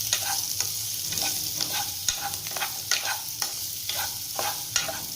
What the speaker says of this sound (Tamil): அந்த பன்னீரை இதோட சேர்த்திடலாங்க. சேர்த்திட்டு 10 நிமிஷம் அப்படியே நல்லா பெரட்டி பெரட்டி விடுங்க.